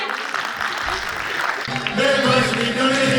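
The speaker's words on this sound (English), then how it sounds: "Give a big round of applause for them" Applause at a children's school annual function evening show, a broad crowd clapping wash that swells and grows louder in its second half.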